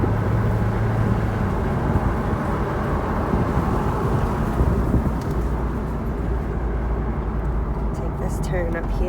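A 2000 Chevrolet Corvette pulls away, its engine roar and road rumble heard from inside the car, loud and steady, fading toward the end as someone talks over it.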